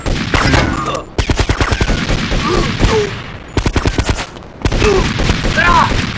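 Rapid gunfire in GTA Vice City Stories, loud, close bursts of automatic shots in quick rhythmic volleys with short pauses between, with no talk over it.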